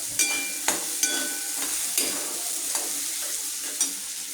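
Onion and tomato sautéing in a pan for rava upma, a steady sizzle with regular scraping strokes of a spoon stirring through the mixture, close and continuous.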